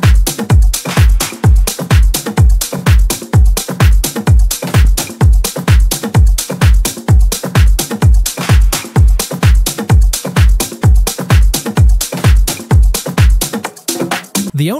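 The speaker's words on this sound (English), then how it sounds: "Drums all together sounds like this." A full Latin tech house drum loop plays alone: a punchy four-on-the-floor kick layered with a top kick, bright hats and percussion in a loud, driving groove that drops out briefly just before the end.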